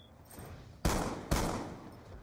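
Two loud, sharp bursts of video game gunfire, each a sudden blast with a decaying tail, spaced about half a second apart against a quiet background.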